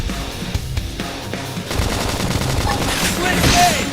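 Rapid gunfire bursts in the Nintendo game Xenoblade Chronicles X, dense and loud amid battle effects, music and in-game voice shouts, growing busier toward the end.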